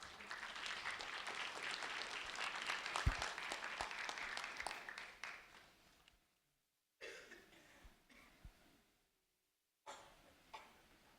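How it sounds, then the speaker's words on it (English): A room full of people claps for an eighth-grade student receiving a sheriff's office recognition award, a warm burst of applause that fades after several seconds into scattered coughs, rustles and near silence. "a round of applause for Christopher Perez"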